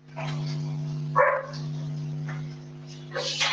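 A small pet dog barks in short bursts during an online geology class, the yaps close and loud over a steady electrical hum, with quieter whimpering sounds between.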